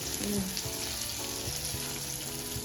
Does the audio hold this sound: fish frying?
yes